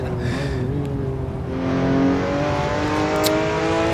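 Car engine humming steadily while the car is driven around Bannochbrae in the Assetto Corsa racing game, with a smooth sustained drone that rises slightly as the engine revs, and no talking.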